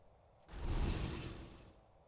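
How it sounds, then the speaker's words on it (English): Nighttime ambience in the video game Outer Wilds: a steady high cricket chirr runs throughout while a water geyser swells into a broad rushing hiss midway and slowly fades, with no talking. "We just have to chill and listen to the crickets and the water geyser."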